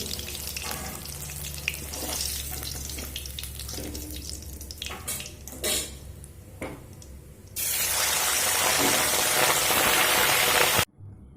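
Fish fry in oil in a pan with a steady close sizzle and scattered clinks of handling, then a louder hissing surge near the end before it cuts off abruptly.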